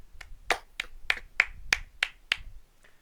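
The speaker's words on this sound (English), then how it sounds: "round of applause to us." A small group of friends clapping in celebration, about eight sharp, separate claps over three seconds at a loose, uneven rhythm, close up and with no talking.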